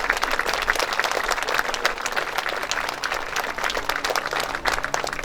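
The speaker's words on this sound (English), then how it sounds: "Let's give them a round of applause." A crowd at an elementary school building dedication and ribbon-cutting ceremony claps warmly for teachers, staff and students, in a dense, sustained wash of applause that stays even throughout.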